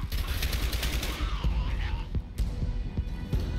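Gunfire in the video game Dark Sector, a run of sharp separate shots with short gaps over a throbbing game hum.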